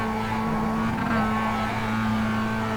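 A Mazda MX-5 Global Cup race car engine held at full throttle at Lime Rock Park, a loud, steady, close droning roar that stays constant throughout with no pauses.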